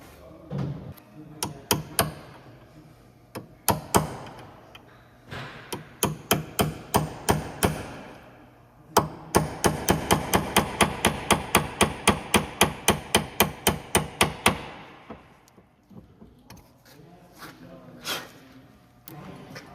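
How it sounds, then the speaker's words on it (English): Heavy metal-on-metal hammer blows on a 2003-2007 Honda Accord lower ball joint, close and loud: scattered strikes at first, then a fast steady run of about twenty hits, followed by a few slower ones. "Now we gotta hammer it. I might need a bigger hammer."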